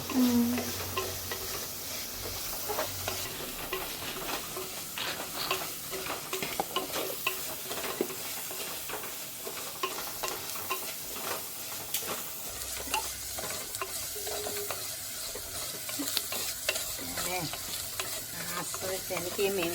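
Onion, crushed ginger and garlic sizzle and crackle in a pan for a fish kurma, with a steady, close frying hiss and occasional stirring scrapes all the way through. No one speaks.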